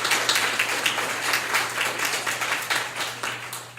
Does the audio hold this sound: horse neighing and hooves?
no